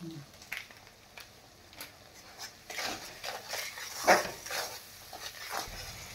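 Ground spices with turmeric and chili powder are stirred and fried in a pan for boal fish curry: quiet sizzling under scattered spoon scrapes and clinks, faint and irregular.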